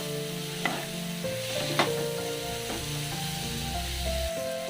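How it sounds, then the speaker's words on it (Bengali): A spatula scrapes and stirs chowmein masala into vegetables in a frying pan, with a soft sizzle beneath a few sharper knocks against the pan, while a steady tonal hum runs underneath. "ভালোভাবে নেড়ে মিশিয়ে নিতে হবে মশলাটাকে"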